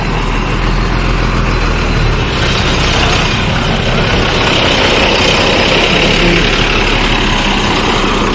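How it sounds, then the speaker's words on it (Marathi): Maharashtra State Transport (MSRTC) bus engine idling at a bus depot, a steady loud diesel rumble with constant vibration and broad background noise throughout, no clear talk. "तर गाडी लागली माझी तिथे विजापूरची, महाराष्ट्र एस टी महामंडळाची"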